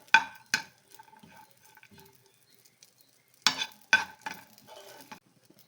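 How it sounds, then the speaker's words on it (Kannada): Raisins dropped into a hot pan while gujiya filling is cooked give short bursts of sizzle and scraping stirs, quiet between, with two clusters of clinks and frying near the start and again toward the end. "ಇವಾಗ ದ್ರಾಕ್ಷಿ ಹಾಕೊಳ್ತಾ ಇದ್ದೀನಿ ದ್ರಾಕ್ಷಿ ಸ್ವಲ್ಪ ಫ್ರೈ ಆಗುತ್ತೆ"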